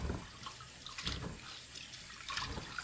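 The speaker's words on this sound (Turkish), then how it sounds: "Kabaklarımı bir daha yıkıyorum." Pumpkins being washed under running tap water, a soft steady splash and trickle of water over the vegetables, fairly quiet and close, with no speech.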